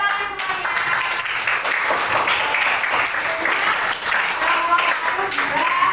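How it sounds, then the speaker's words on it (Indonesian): Classroom audience claps for a student group after a presentation, with steady, fairly loud clapping and voices mixed in. "Tepuk tangan semuanya."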